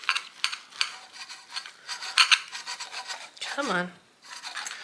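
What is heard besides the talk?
knife cutting food in half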